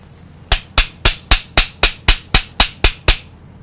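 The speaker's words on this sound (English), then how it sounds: "we're going to take off the hose clamp now" A hose clamp is worked off a freshly soldered metal part on a model steam wagon. Eleven loud, evenly spaced sharp metallic clicks sound up close, each decaying quickly, with nothing else audible.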